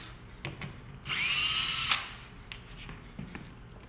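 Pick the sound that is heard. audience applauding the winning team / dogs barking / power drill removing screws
power drill removing screws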